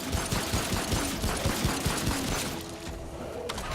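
Rapid pistol gunfire in the video game Remnant: From the Ashes, a dense series of sharp shots in quick rhythm under a steady noisy battle backdrop, loud and close, easing off near the end.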